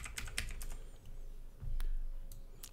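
Typing on a computer keyboard while entering an effect name in After Effects, a quick run of close, crisp key clicks in bursts with short pauses, over a low background rumble.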